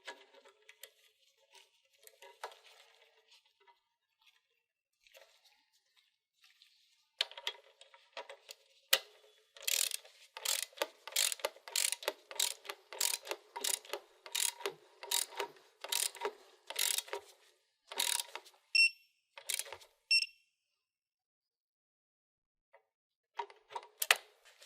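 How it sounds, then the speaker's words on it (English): A hand ratchet tightens the drain plug on a Kohler 7000 generator, a run of quick, close clicking strokes in steady bursts, with a few sparse clicks before and after and quiet gaps between. "If a drain plug was removed, reinstall and torque to 10 foot-pounds."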